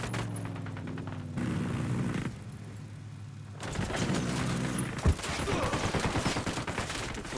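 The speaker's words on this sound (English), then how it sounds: "Opening fire." Bursts of automatic gunfire from a squad firing in the tactical shooter Ghost Recon Wildlands, rapid rattling volleys across the clip with a sharp single bang near the end, over steady game background sound.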